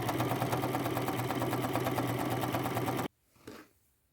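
A sewing machine stitches a fabric choker with mustard thread, running fast and steady up close for about three seconds before stopping, followed by a faint handling rustle.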